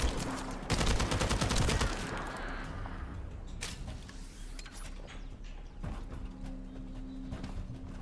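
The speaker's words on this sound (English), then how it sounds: "Gotta reload." Mechanical clicks and clacks of a gun being reloaded in the video game The First Descendant, set against game-like rumble and bursts of gunfire noise. A loud burst opens the clip, followed by a steadier mechanical layer.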